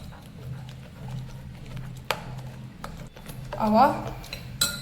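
Semolina batter is stirred in a bowl with a spoon, giving intermittent clinks and scrapes of metal against the dish amid a low background, with a voice speaking briefly near the end.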